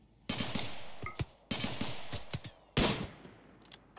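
A few sharp, punchy gunshot blasts from the video game RimWorld, spaced irregularly amid game noise, with one especially loud burst near the end.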